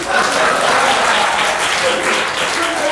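Audience clapping at a back-to-school variety show, a dense, loud, steady wash of applause lasting the whole stretch with no clear breaks.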